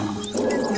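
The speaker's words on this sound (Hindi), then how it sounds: "गुस्से में आकर शेर जोर जोर से दहाड़ने लगा।" An angry cartoon lion, caught in a hunters' net by a riverbank, gives one short, loud, growling roar that swells and holds near the end.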